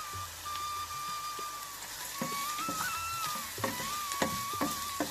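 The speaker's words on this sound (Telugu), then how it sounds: "ఉల్లిపాయలు మగ్గే వరకు ఫ్రై చేసుకోవాలండి." Onions frying in a pan with salt and turmeric for an Indian egg curry: a quiet, continuous sizzle with occasional clicks and stirring scrapes, a thin tone running through it, and no speech.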